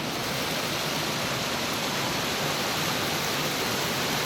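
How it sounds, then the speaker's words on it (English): A river waterfall rushes into a pool below, a steady broadband roar of falling water, loud and unbroken, with no voices. "And that's the waterfall."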